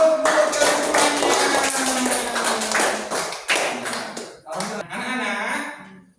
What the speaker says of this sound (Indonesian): Iya, kasih aplaus untuk kalian semuanya.